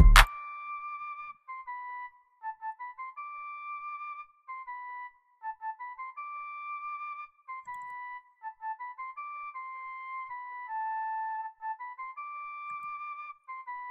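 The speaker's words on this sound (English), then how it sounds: "The next sound I added was a flute, and the flute sounds like this." A synthesized flute line from a beat made in Reason plays a clean, gliding melody of repeated sustained notes alone, after a short percussive hit at the start.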